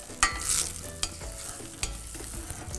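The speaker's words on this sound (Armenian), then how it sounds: "Կարակով դարձնում ենք տապակի մեջ, նեխուրը։" Chopped celery frying in melted butter in a pan while being stirred, a close, soft sizzle with scraping strokes of a utensil at intervals.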